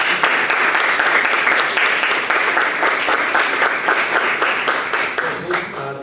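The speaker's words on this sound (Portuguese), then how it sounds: "Pedir uma salva de palmas." Audience applause fills an education panel on culture, art and technology, dense and steady for about six seconds, then thinning slightly toward the end.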